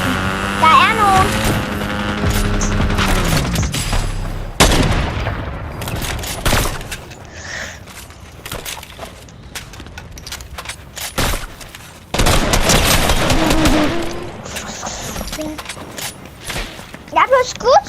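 Rapid gunfire and sharp sniper shots in a Fortnite match, loud bursts scattered through the clip with a young voice talking over and between the shots.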